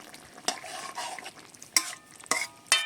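A fish curry with cumin paste is stirred in a pan, with several scraping, clattering strokes over a soft background sizzle, close and alone.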